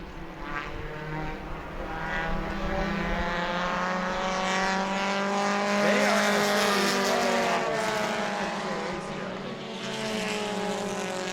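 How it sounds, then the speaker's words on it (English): Race cars roaring around New Smyrna Speedway during a World Series event, loud sustained engine drone with pitch sweeps as cars pass, a continuous layered howl with no one talking. "look at him split the lap car on the backstretch"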